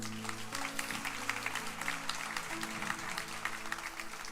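A church congregation claps during a service, moderately loud scattered applause over sustained organ or keyboard tones that shift pitch.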